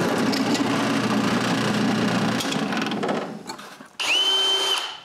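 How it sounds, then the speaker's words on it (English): A power drill runs steadily as it bores a hole in wood, loud and close, then fades out. After a brief pause comes a short high-pitched whir of the spinning drill. "I can mark where to drill the hole to screw the other part and drill it."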